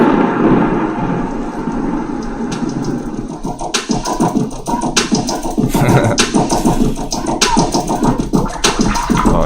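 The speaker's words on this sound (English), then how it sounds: "Stormy weather out" Heavy thunderstorm with steady rain pouring on surfaces and deep rolling thunder rumbling throughout, loud and close, with no voices.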